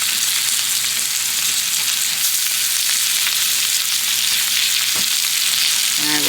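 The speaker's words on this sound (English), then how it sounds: "So now I'm going to be adding in the fish" Haddock and onions sautéing in a pan, a loud, dense, continuous sizzle that fills the scene, with a single clatter near the end and no voices.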